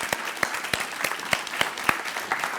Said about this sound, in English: Please, a big round of applause to all the candidates.